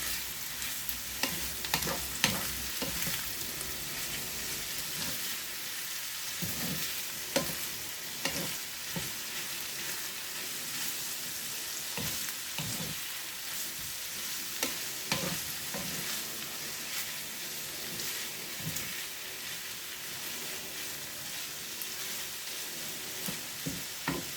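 Buttered chicken pastel being stirred in a pan: a soft, constant sizzle of frying underneath, broken by repeated scraping and knocking strokes of a utensil against the pan at an irregular pace, with no talking.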